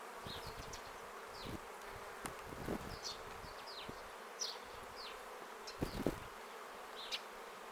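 A steady, close buzzing of many honey bees in a hive with an Austrian-line queen fills the clip, with brief louder passes of individual bees flying near and occasional soft knocks.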